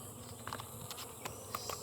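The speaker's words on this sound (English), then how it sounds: "there's a lot of bees here" Honey bees buzz around an open hive, a dense, steady drone with individual bees passing close now and then, fairly faint and without voices.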